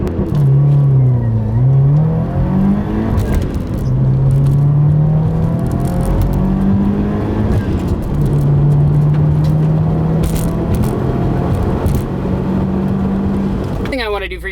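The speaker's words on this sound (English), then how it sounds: "Now, we're just gonna do a hard launch" A twincharged Subaru WRX holds its revs on launch control, set around 5,000 rpm, for a hard launch. The engine note is loud and sustained, wavering up and down, with a sudden burst right at the end.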